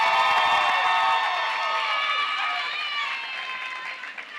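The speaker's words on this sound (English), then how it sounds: "So I want to applaud you." Graduation audience at a college commencement ceremony applauding and cheering, a dense wash of clapping that stays loud, then gradually thins and fades toward the end.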